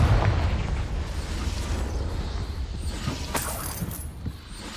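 A Confringo fire spell goes off in the Hogwarts Legacy video game, a dense rumbling blast with popping crackles that sustains for several seconds, with a sharper burst late in the sound.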